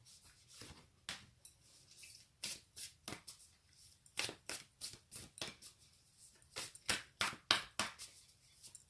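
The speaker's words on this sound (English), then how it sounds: "As I'm shuffling, I can't do the fancy flipping the cards together shuffle." A deck of cards is shuffled repeatedly by hand, soft riffling and rubbing bursts in an uneven rhythm, close and fairly quiet.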